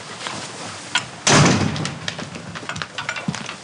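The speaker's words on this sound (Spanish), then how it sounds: "Cierra la puerta." An indoor door in a Spanish drama scene is shut with a solid thud after faint shuffling, followed by quieter knocks and movement nearby.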